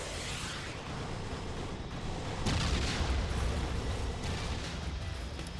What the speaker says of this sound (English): no matter what he does, he will get hit by the missile.